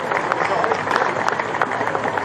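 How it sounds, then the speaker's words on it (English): A crowd at an African Australian football association grand final ceremony applauds, with a steady patter of clapping filling the whole stretch at moderate volume. "give yourself a round of applause"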